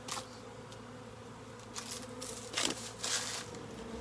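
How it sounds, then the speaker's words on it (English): Honeybee swarm humming close by, a low steady drone with a few louder rustling bursts from nearby movement. "One nice thing about when bees are swarming"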